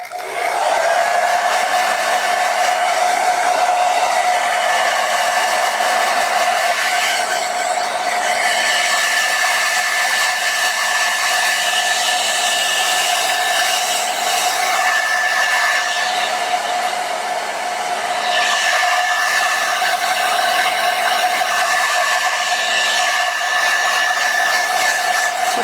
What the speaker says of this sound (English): So I'm going to use a blow dryer now